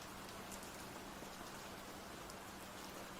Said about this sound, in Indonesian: Di luar hujan pun masih ku dengar dari celah-celah jendela.